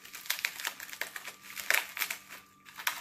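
Dried skin is peeled off a harvested luffa gourd, producing close, crisp crackling and crunching bursts in an uneven rhythm, with a short pause near the end.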